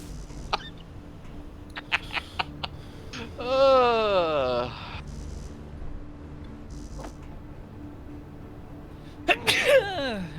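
A single close, loud sneeze bursts out mid-way during a multiplayer gaming session, standing out from quiet background clicks and low hum, with a shorter burst following near the end.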